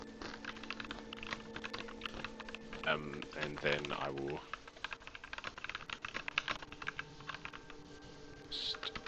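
Computer keyboard typing in bursts of close, rapid clicks, with a person speaking partway through over the keystrokes.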